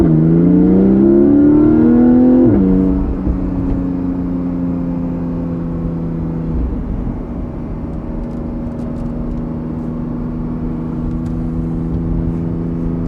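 Porsche Cayman GTS 4.0 engine on a mountain road, revving hard near the start with a rising note that drops at a gear change, then settling into a steady, loud cruising drone with road and wind noise and no talking.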